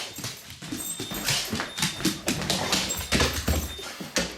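A dog whimpers and whines in short, excited bursts up close, with rustling and movement around it.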